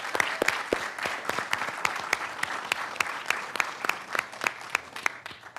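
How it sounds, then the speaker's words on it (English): An audience at a city council meeting applauds a high school sports team in a dense burst of individual claps that carries on steadily for several seconds, with no speech over it. "Let's give them a round of applause there."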